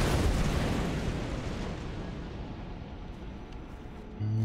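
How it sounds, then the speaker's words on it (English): An explosion in the video game XCOM: Enemy Within erupts as a loud, deep rumbling boom that decays slowly over several seconds and leaves a low tone at the end. "might have been from the explosion"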